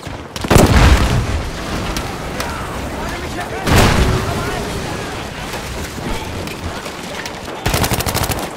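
Grenade explosions and gunfire in the World War II shooter game Battlefield V, with loud booming blasts and rattling automatic fire over rumbling battle noise; in-game voices shout throughout.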